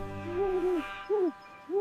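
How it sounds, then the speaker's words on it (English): Three falling, hooting calls of a cartoon owl at bedtime, each a smooth tonal swoop spaced by short pauses, fairly close and clear with no talking. "Owl says hoo hoo."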